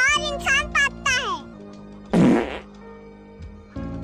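A loud, brassy fart erupts midway through a comedy sketch, preceded and followed by voices and a child's chatter.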